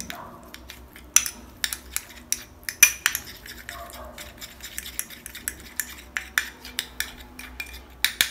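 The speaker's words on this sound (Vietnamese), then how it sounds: "Chúng ta trộn đều hỗn hợp." A teeth-whitening mixture stirred in a bowl with a utensil, giving steady repeated scraping and clinking strokes close up, with no voices.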